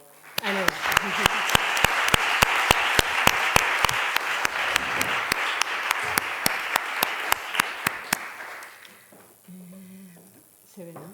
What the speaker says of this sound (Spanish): Y un aplauso muy fuerte a Isabel, por favor.